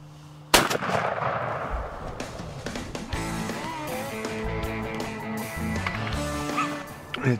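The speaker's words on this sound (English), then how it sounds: "Let's see if Jimmy can pull off the shot." A shotgun fires at a wild turkey during a youth turkey hunt: one sharp, loud, close blast near the start, followed by rustling outdoor movement and other activity.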